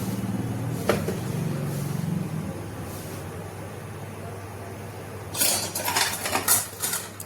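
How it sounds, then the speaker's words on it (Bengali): Washed potatoes going into a metal pressure cooker in a home kitchen, with a few soft metallic clinks and clanks followed by a louder splashing pour of hot water near the end, fairly close. "এখানে আলু ধুয়ে কুকারে দিয়ে দিয়েছি আর দিয়ে দিচ্ছি গরম জল"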